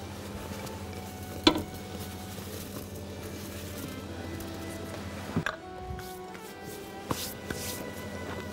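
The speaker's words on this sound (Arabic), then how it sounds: "نفضل نقلب، مش عايزين المارشميلو يلزق ويتحرق في قاع الحلة. نفضل نقلبه مع الزبدة." Marshmallows and butter stirred in a pot, a soft quiet scraping and sizzle with a few sharper knocks of the spoon against the pot, no voices.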